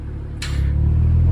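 An Audi Sportback switching into RS mode opens its exhaust valves, giving a low engine drone that swells and grows louder and fuller after a brief airy burst.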